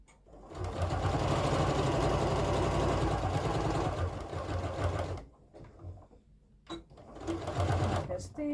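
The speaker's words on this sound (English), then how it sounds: "the thing is to stitch in the middle of the chenille" A sewing machine runs steadily for about five seconds while stitching down the middle of a chenille strip for a Christmas sewing project, then stops briefly and whirs again near the end, with some talking over it.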